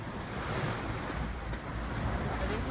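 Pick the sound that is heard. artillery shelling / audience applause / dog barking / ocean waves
ocean waves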